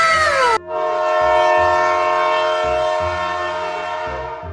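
A cartoon train pulls in with a loud, sustained whistle or horn tone over a steady rhythmic clatter of wheels, following a brief cartoonish sound at the start.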